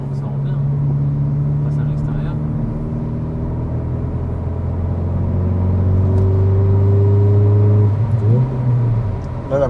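A 2023 Hyundai i20 N, fresh out of running-in, passes outside with a raspy engine and exhaust note, a steady loud drone swelling and shifting pitch as it goes by, with voices talking over it.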